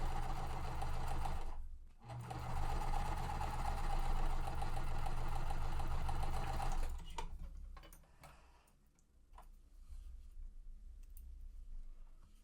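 A sewing machine chain-stitches quilt pieces for an under-the-sea mystery quilt, running in a loud steady whir with a brief pause near two seconds, then stopping around seven seconds and leaving quiet handling noises.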